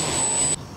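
An agricultural plane's engine runs at low power in flight, a steady, close roar with a high whine that cuts off abruptly near the end of the brief moment.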